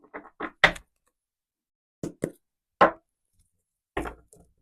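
Deck of tarot cards tapped against a surface in a series of short, sharp, near knocks and taps in small clusters, separated by silent gaps.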